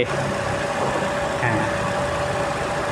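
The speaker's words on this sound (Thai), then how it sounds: "เครื่องยนต์เดินนิ่งครับ" An older used green-and-yellow NGV taxi with a naturally aspirated engine idles smoothly, a soft steady low rumble with faint background murmur.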